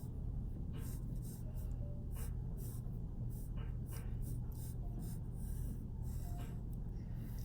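A pencil sketches a big, chunky block letter L on paper, soft scratchy strokes repeating in short bursts over a low steady hum, close and fairly faint with no talking.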